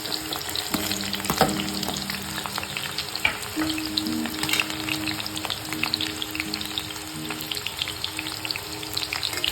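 Onions fry with green chili paste in a pan for methi potato sabzi: continuous crackling sizzle, moderately loud and close, with occasional stirring scrapes and small pops.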